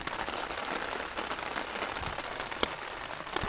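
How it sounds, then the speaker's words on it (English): Steady rain patters on surfaces at a backpacking campsite, a dense, even hiss with a few louder individual drops tapping nearby, no voices. "Oh, it's raining now."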